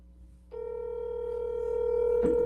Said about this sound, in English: Sound like he's busy because it's a call waiting.